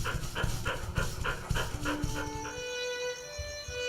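A dog in a video game pants rapidly in quick rhythmic breaths, fairly close, then fades as a steady tonal hum takes over.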